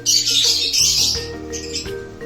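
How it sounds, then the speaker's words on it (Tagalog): A caged mutation-bred bird calls loudly and close up with shrill, repeated chirps, over a low hum of background noise. "Yan po yung mutation ng ibon."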